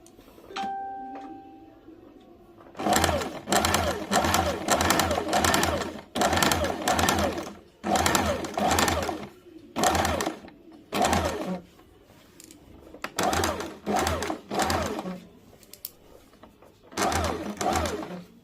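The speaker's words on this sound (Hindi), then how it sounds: "अब मैं इसे ½ इंच का मार्जिन से पूरे में सिलाई चला लूँगी।" A sewing machine stitches a kurta seam in repeated close bursts of whirring, with short gaps between them, after a quiet opening that has a brief chime.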